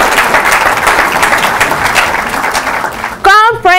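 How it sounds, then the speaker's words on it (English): Audience clapping for Manna International School at a school quiz, a steady dense wash of applause that cuts off near the end as a voice begins speaking. "Let's clap for Manna International School."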